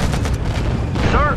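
Dense, loud battlefield gunfire and booms in the real-time strategy game Act of War: Direct Action, a continuous barrage of shots with a voice briefly calling out over it near the end.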